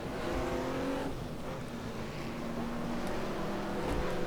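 A Porsche race car in a racing video game roars past, its engine a loud, steady drone whose pitch shifts and rises as it pulls alongside, with no talking.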